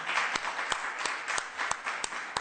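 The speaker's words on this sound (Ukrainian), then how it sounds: "За що єдина з усіх міністрів зриває оплески колег." A room of government ministers applauds, dense overlapping clapping with a few louder, sharper claps standing out at a fairly regular pace.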